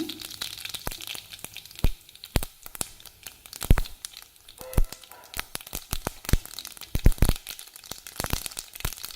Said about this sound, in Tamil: கடுகு நல்லா வெடிக்குதுங்க